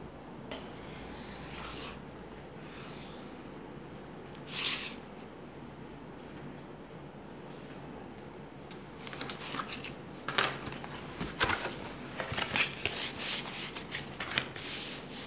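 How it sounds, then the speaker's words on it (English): A cardboard shoe pattern is scored along its central line, giving soft scraping and rubbing strokes that start faint and sparse, then turn into louder, rapid scratching with a few sharp ticks toward the end. "to bend this cardboard, we will need to score this cardboard along central line"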